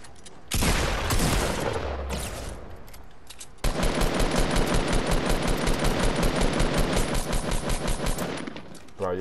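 Rapid automatic gunfire in a video game: a long loud burst, a brief pause, then steady rhythmic machine-gun fire continuing to the end.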